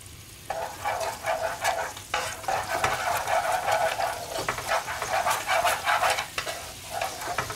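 Fresh stout and a little butter hit a reduced sauce in a hot pan, giving a loud, close, continuous sizzle with crackling bursts and scraping stirs, and no voices.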